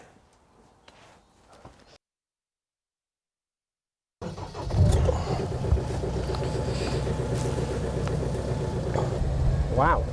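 A truck starts and pulls off on a test drive, a low engine rumble building after a short silence, steady and close, with a faint voice briefly at the start.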